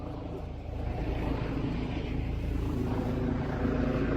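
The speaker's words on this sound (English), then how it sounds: "Helicopters right there." A police helicopter passes overhead, its steady low engine and rotor drone holding loud and continuous throughout, slightly building toward the end.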